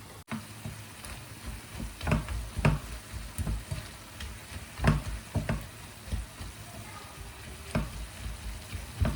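Chicken breast cooks in a pan for a potato and chicken cream-and-cheese gratin, giving a steady close sizzle with soft crackles and occasional louder pops, no talking.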